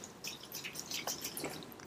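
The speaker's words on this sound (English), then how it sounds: "I'm just going to put a bit of metho in the tank" Methylated spirits is poured into the fuel tank of a seized outboard motor, making faint irregular liquid splashes and drips that patter quietly for a couple of seconds.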